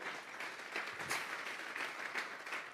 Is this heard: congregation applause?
yes